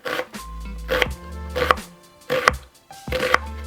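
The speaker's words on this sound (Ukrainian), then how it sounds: "Нарізати бажано дрібненькими кубиками, щоб смачніше було і не попадались шматки цибулі окремо" A knife chops an onion into small cubes on a cutting board in short bursts of quick cuts, separated by brief pauses, close up and with no talking.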